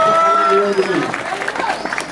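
Audience applause at a Balinese Calonarang performance with comic banyol clowning, a brief ragged patter of clapping rising after an opening stretch of voices and tonal sound, with talking continuing over it.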